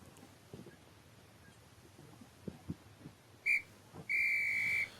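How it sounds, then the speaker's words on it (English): A referee blows a whistle to start a football match in the Legends League: one short blast, then a longer sustained one, sharp and clear over quiet background with faint thumps. "the ref's blown his whistle"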